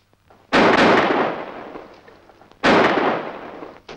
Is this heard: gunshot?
yes